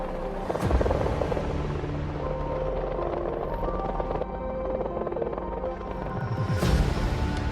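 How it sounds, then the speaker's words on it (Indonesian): A UN helicopter arriving in the film Wolf Warrior 2, its rotor drone steady and loud across the clip, mixed with dense film soundtrack and effects, with swells near the start and end. "1 helikopter PBB pun tiba untuk mengevakuasi mereka"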